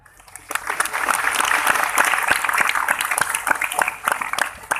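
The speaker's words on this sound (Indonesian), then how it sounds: "Tepuk tangan ya Allah." Applause breaks out from the audience at a haul gathering of an Islamic boarding school, swelling quickly into a dense wash of clapping with distinct sharp claps throughout, loud and sustained before thinning slightly near the end.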